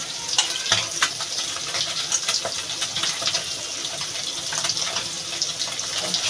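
Chela fish frying in a pan in a home kitchen, a steady bright sizzle with scattered pops and crackles running throughout, close and fairly loud, with no talking.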